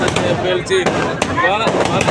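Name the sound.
firecrackers bursting in the street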